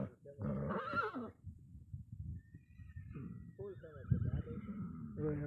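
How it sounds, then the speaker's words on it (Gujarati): A horse whinnies loudly near the start, then a second neigh follows later, with people talking throughout. "આમ ઘોડીઓ બોલે છે."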